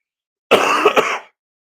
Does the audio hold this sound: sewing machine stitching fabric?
no